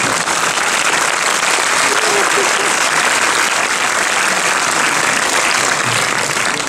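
Loud, sustained applause from a big crowd at a French film premiere, continuous clapping that fills the whole stretch without pause.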